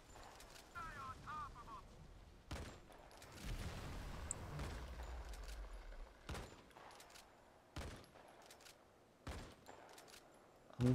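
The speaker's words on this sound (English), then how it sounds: "I'm gonna keep firing." Gunfire from the shooter game Modern Combat 5 comes in several separate bursts and single shots, sharp and close, spaced through the stretch with some game ambience between them.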